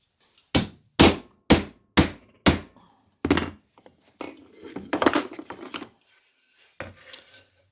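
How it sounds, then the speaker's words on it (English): Five evenly spaced sharp metallic hammer strikes ring out close by as a punch drives through shovel handle rivets over a block of wood, followed by scraping, clinking metal and a few more scattered knocks. "Punch and hammer that through."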